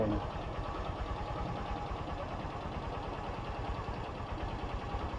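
A Honda TMX Supremo motorcycle engine idles with a steady, fairly quiet pulsing putter, even in rhythm throughout, close and alone.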